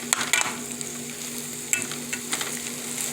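Ketchup being stirred into chopped cheese beef on a hot griddle: steady sizzle with a few scraping clicks of a spatula near the start and a couple more later, no talking.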